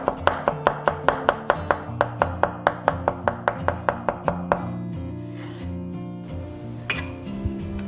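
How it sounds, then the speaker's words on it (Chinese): A knife chops garlic and coriander on a cutting board in a rapid, even run of about twenty crisp close knocks, then stops, followed by faint kitchen clatter and a light clink, with no speech. "准备一些大蒜、香菜碎，然后切成蒜末。"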